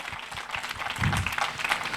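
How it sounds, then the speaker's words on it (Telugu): A church congregation claps in praise, a dense, steady patter of applause at moderate distance that swells slightly midway. "దేవునికి చప్పట్లు కొట్టి దేవుని మహింపరుద్దాం"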